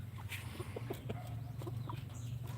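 Chickens clucking nearby in short, repeated bursts over a constant low hum, with a few higher squawks scattered throughout.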